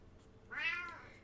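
A female cat gives a single clear, drawn-out meow at close range, rising and falling over about a second in a quiet room.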